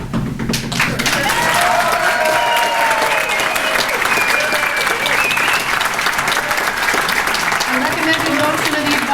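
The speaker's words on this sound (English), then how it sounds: "Will the town recognize, applaud, cheer, clap for, hail, extol, praise, commend, acclaim, salute, celebrate" Sustained loud applause with cheering from a crowd honoring Betty Foley at her retirement party, dense steady clapping filling the whole stretch with voices mixed in.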